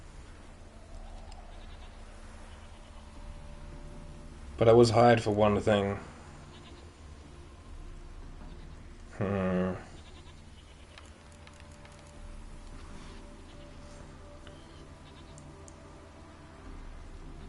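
Goats bleat in The Witcher 3: Hearts of Stone, first a loud, wavering, stuttered call lasting about a second, then a shorter single bleat a few seconds later, over a low ambient game background with a voice speaking briefly.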